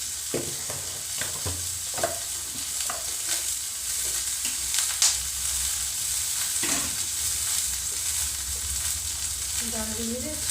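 Onions and chillies fry in a pan with a steady, close sizzle, broken by scraping stirs and utensil clinks through the whole stretch, with no talking.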